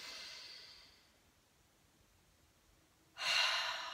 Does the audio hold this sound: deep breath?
yes